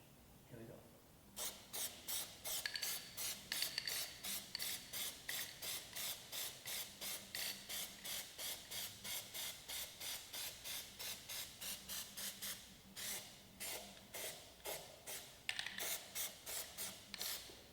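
Repeated short bursts of aerosol spray hissing close by, about thirty quick pumps in a steady rhythm with brief pauses, as black Plasti Dip rubber coating is sprayed from a can.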